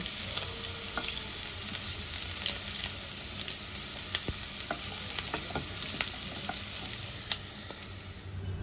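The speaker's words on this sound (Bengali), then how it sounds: "এবার তেলের মধ্যে একটা শুকনো লঙ্কা, একটু সাদা জিরে ফোড়ন দিয়ে দিলাম" A dry red chilli and white cumin seeds sizzle in hot oil with a continuous crackling fry, dotted with sharp little pops and spits throughout.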